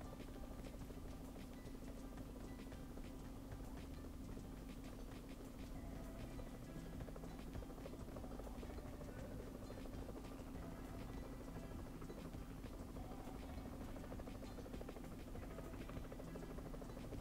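A helicopter in the PUBG Mobile Metro Royale game makes a constant droning rotor buzz with steady rhythmic chopping, even and unbroken throughout, at a moderate distance.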